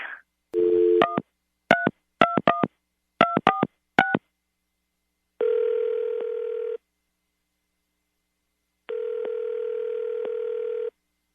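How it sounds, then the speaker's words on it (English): Telephone being dialed to call someone: a quick run of DTMF keypad tones in short bursts, followed by two long steady ringback or dial tones separated by silence, clear and close with no voices. "Kate, you ready to get him on the phone and ask him why he just stopped talking to you?"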